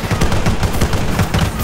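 Dense, loud automatic gunfire in Arma 3, a rapid unbroken stream of close shots with a low, heavy punch and no voices over it.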